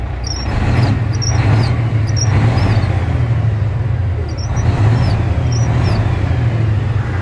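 A warmed-up car engine idles with a steady, low rumble, even and continuous throughout, with faint high squeaks drifting above it.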